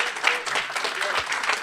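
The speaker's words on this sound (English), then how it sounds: "Give them a round of applause" An audience at a Black men's legacy summit bursts into applause, a dense, steady wash of clapping from a nearby crowd lasting a couple of seconds with no voices on top.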